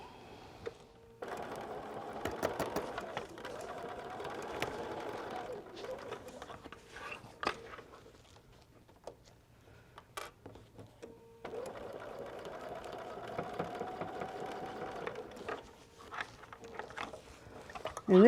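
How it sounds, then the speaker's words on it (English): A sewing machine runs in long steady bursts, stitching a quilted bag's lining with the handles attached, with a short pause midway before the motor hums on again. "now we're ready to sew the lining in the bag with the handles"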